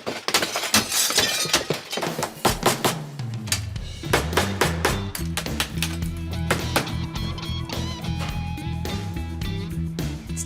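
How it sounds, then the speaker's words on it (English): Glass panes being broken out of an antique window: a burst of sharp cracks and shattering clinks near the start, then lighter tinkling fragments over a backing music bed. "So the tricky part is gonna be actually breaking these 2 panels out."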